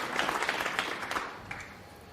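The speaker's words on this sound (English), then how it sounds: "A smattering of applause even for that comparatively simple shot." Snooker spectators give a brief smattering of applause in the arena, with scattered claps for the first second or so that thin out and fade to quiet.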